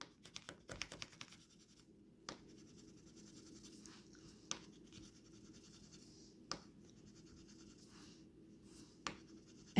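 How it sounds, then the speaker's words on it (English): A bracelet scrapes across a silver testing stone in quiet, close, scratchy strokes, broken by a few small sharp clicks. "just take part of the bracelet or whatever thing you're testing and just scrape it across the stone"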